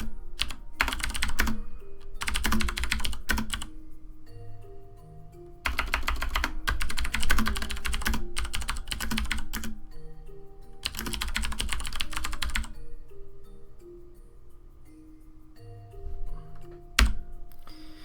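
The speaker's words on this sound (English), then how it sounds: "Sorry, I'm typing stuff, so I'm not talking too much." Rapid typing on a computer keyboard, with dense bursts of clicking keys separated by short pauses, played over quiet background music from a game development stream.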